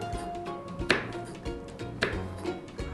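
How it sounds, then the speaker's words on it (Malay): A knife slices fresh chillies on a cutting board in a steady run of crisp, close chops, each cut landing with a sharp knock. "Seterusnya tadi akan potong cili hidup."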